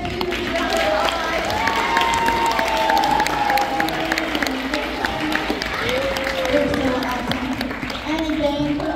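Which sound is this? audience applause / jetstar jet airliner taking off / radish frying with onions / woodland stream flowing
audience applause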